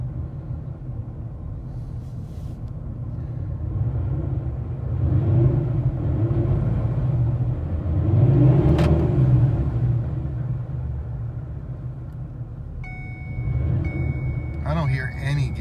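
A car fitted with an MT82 manual transmission driving in second gear, heard from inside as a steady low rumble that swells and eases, with a brief tonal whine and a clatter near the end.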